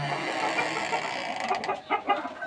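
A rooster clucks in a poultry yard, a few short, close clucks near the end over a low, steady background hum.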